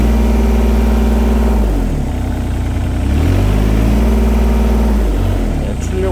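A 2015 Yanmar VIO17 mini excavator with a manual throttle cable has its engine revved up, and the loud, close diesel note rises and falls through several swells over a steady rumble.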